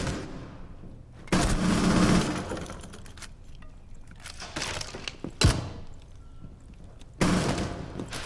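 Gunfire in a video game, aimed at a window, comes in several loud, sharp bursts separated by quieter stretches of game noise.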